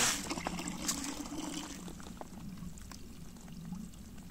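Water pours steadily into a container of around ten litres, filled outdoors from a spring at a highland campsite, giving a continuous close splashing gurgle that softens slightly as it fills.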